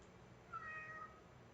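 A house cat gives a single short, faint meow in a quiet indoor room.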